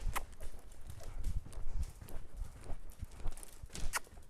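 A horse cantering under saddle, its hooves giving a quick, uneven run of soft clip-clop beats close by, with faint breathing and low background noise and no talk.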